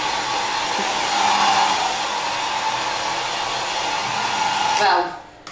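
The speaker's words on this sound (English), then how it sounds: "And you get your hair dryer. I actually need to dry my hair now." A hotel-room hair dryer blows steadily at close range, a loud even whoosh with a slight change in pitch midway, then switches off abruptly near the end.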